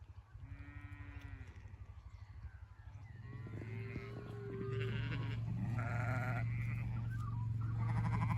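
Sheep bleat repeatedly as a flock is driven down toward a gate on a hillside flower farm, the calls rising over a steady outdoor rumble and growing louder and denser toward the end.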